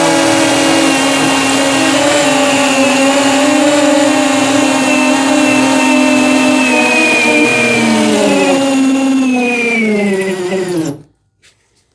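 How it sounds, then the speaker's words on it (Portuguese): A Hanabi Black LB cordless drill bores into masonry with a 10 mm carbide bit, a loud continuous whining motor hum that drops slightly in pitch under load, then cuts off abruptly near the end. "Agora a perfuração em alvenaria, a broca que eu vou usar é essa broca de Vidia da Irving"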